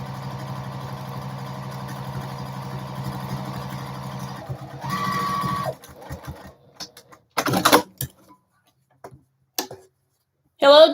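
A Juki TL-2010Q sewing machine stitches an embroidered fabric keyfob, running in a steady, close mechanical whir for about five seconds, then stopping into scattered clicks, handling noises and brief stitching bursts.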